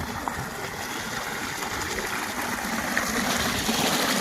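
Continuous rushing, gurgling water pours from a motor pump outlet close by on a farm, steady and fairly loud, swelling slightly toward the end.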